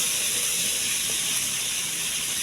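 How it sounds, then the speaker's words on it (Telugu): Soya paneer frying in oil over a low flame makes a constant, even hiss and sizzle up close, with no other sounds. "కొద్దిగా ఆయిల్ వేసుకోవాలి. సిమ్లో పెట్టుకోవాలి."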